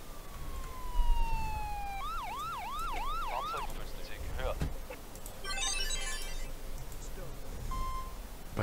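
Ambulance siren in the Emergency 4 video game: a rising tone, then a rapid wailing yelp sweeping up and down for a couple of seconds, followed by game beeps and chirps over a noisy background.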